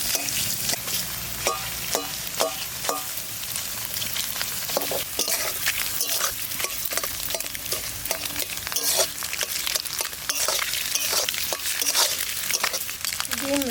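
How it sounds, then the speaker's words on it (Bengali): Cut boiled eggs frying in ghee in a pan, a continuous sizzle broken by frequent sharp spatters and scraping clicks of stirring. "ডিমগুলো কেটে কেটে ঘি ভাজা করে দেবো।"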